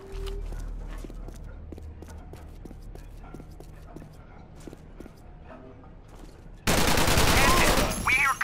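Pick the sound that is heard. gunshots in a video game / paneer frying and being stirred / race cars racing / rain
gunshots in a video game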